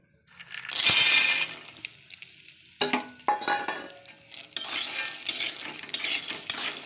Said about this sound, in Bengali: বাদামটা একটু হালকা আছে ভেজে নেব লো ফ্লেমে বাদামটা ভাজতে হবে